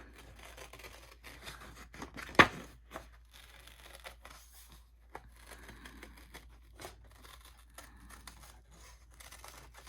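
Scissors snip around paper to form a pocket for a handmade gatefold album, quiet close crinkles and short cutting clicks with one sharper snap early on, no talking.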